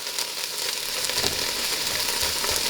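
Food sizzles steadily in a hot, dry pan with no oil while black bean soup is being made, a constant bright hiss with faint crackles throughout, close and fairly loud with no talking.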